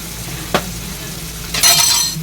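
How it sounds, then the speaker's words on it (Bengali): Pieces frying in oil in a pan with salt and turmeric, a low steady sizzle broken by one sharp utensil clink, then a louder burst of crackling sizzle toward the end. "একটু লাল করে ভেজে নেব।"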